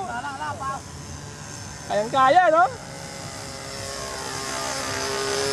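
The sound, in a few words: remote-controlled model airplane flying overhead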